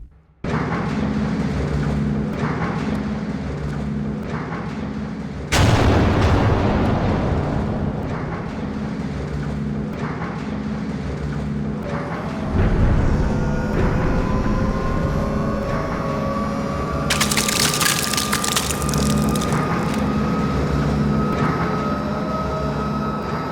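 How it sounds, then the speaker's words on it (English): In the horror game Night Security, a heavy, continuous low rumble fills the background while harsh metallic scraping and brushing swells in and out, with a sudden loud burst partway through. "an overwhelming low rumble or the sound of metal being brushed"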